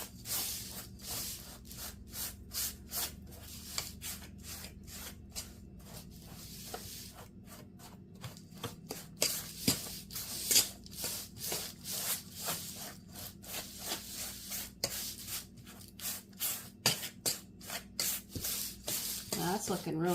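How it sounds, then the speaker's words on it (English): Butter is rubbed by hand into biscuit crumbs for a New York style cheesecake crust, producing rhythmic close scratchy rubbing strokes that grow more vigorous, with faint background voices. "Just try to really incorporate that butter into all the crumbs."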